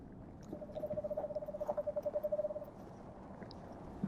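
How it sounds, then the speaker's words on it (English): An owl hoots in a cold forest at night, a steady run of rapid, evenly pulsed low hoots lasting a couple of seconds, moderately close and alone with no talk. "I hear an owl"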